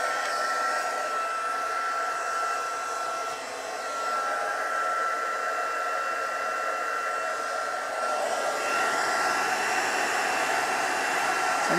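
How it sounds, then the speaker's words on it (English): A heat tool for embossing on a stamped card blows a loud, continuous fan-driven whoosh with a steady whine, close and unbroken, with a slight dip and a small change in tone partway through. "So I'm just going to heat this up again a little bit."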